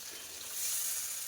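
Koi fish frying in oil with spices, curd and tomato gives a loud, close, continuous sizzle that swells slightly midway with a faint stirring texture.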